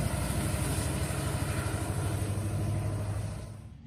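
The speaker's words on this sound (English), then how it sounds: "you can hear that EMD power" An EMD diesel locomotive, NS 1068, rumbles close by with a deep, steady engine drone and a throbbing low pulse, easing slightly at the end.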